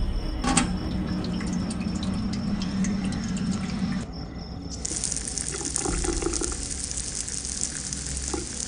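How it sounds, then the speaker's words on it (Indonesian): Steady rushing of water from a kitchen tap, continuous and close, with a brief dip midway before the flow resumes stronger. "suara keran yang menyala"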